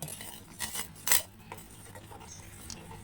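Millet malt porridge with dry fruits stirred in a pot, giving a few soft scrapes and light clinks of the spoon against the pot, quiet and close, with no talking.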